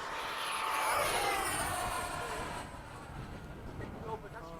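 Buzzing whine of an RC model airplane flying overhead on a windy day, loud at first and then fading as it passes, with a voice talking over it near the end.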